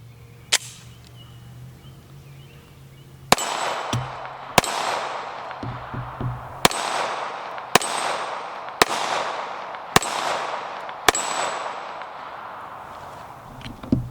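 Outdoors on a dreary, rainy day, a Sig Emperor Scorpion Carry Fastback pistol fires eight sharp, loud gunshots, one isolated then seven at steady intervals, each with a short decaying echo.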